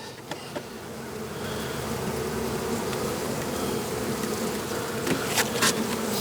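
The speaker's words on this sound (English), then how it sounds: "we're gonna smoke the bees so they go down" A dense swarm of honeybees drones steadily all around an open hive being smoked, a continuous buzzing hum that rises slightly partway through.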